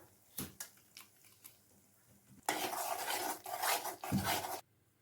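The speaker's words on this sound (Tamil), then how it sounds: "கை விடாமல் கலந்துக்கிட்டே இருங்க, இல்லைன்னா அடி பிடிச்சிரும்." Coconut therattipal sweet stirred in a pan: sparse spoon scrapes at first, then a loud burst of clattering, scraping stirring that stops abruptly, with no voices.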